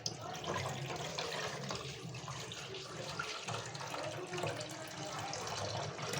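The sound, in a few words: washing soaked wheat and corn grains in water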